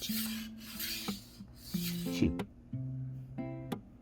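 A chef knife is drawn across a sharpening surface with steady pressure, giving several short rasping strokes, close and moderately quiet, mixed with faint tonal background sounds.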